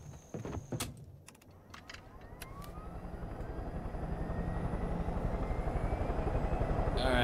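Helicopter in the video game Far Cry 5, its rotor chop starting quieter and swelling into a loud, steady rhythmic thrum, with a few sharp clicks and taps at the start.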